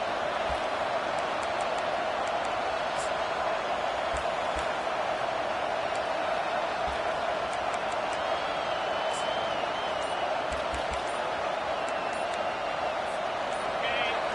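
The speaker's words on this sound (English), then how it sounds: "The roar of the crowd trying to fuel this defense to keep them pinned in their own end." A football stadium crowd at a Notre Dame versus Texas game roars in a steady, dense wash that never lets up, with a commentator talking over it.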